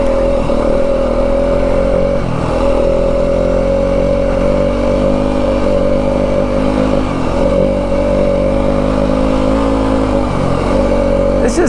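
A 2025 Yamaha WR250F dirt bike rides a rough mountain trail in the Dragoon Mountains near Pearce, Arizona, its engine droning loudly and continuously with small throttle dips and surges throughout.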